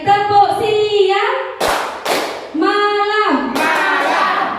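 A group of adults plays a rhythmic clapping game, with a few sharp bursts of claps between loud call-and-response voices chanting together.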